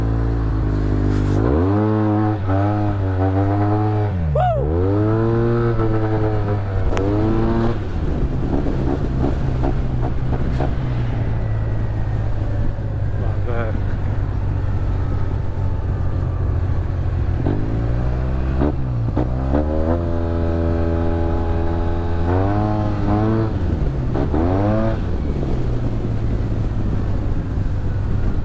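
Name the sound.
Yamaha TMAX 560 scooter engine while riding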